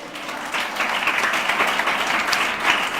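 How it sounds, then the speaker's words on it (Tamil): Applause from a church congregation during a Tamil sermon, a steady dense wash of clapping at moderate loudness that holds for the whole stretch. "கைத்தட்டு எல்லாரும்."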